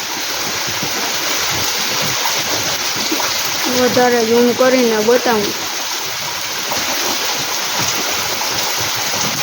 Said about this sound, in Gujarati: જો આ બધું નદીનું પાણી આવ્યું એટલો વરસાદ થયો